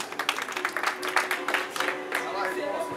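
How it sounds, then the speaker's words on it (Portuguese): Party guests at a friend's birthday in Osasco clapping for a woman called up front, a short burst of uneven clapping under chatter and voices, moderately close and somewhat faint. "Palmas para Alessandra!"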